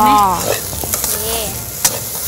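Riceberry rice stir-fried in a pan for a tom yum shrimp fried rice dish, with a spatula scraping and tossing the grains over a steady close sizzle, and a few sharper clinks.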